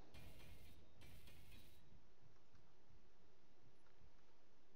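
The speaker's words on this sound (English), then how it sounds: "I'm just going to weld up behind it." Welding blocks in Space Engineers makes a faint mechanical whirring and ratcheting, strongest in two short bursts over the first two seconds, then fading to a low steady hum.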